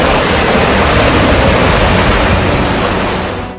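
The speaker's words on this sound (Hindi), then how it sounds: "कई फ्लाईओवर के नीचे 10 फीट ऊंचाई से पानी बह रहा है।" Floodwater in a city in south or central China roars in a dense, steady, loud wash as it pours about ten feet down from beneath a flyover, continuous and unbroken with no voices.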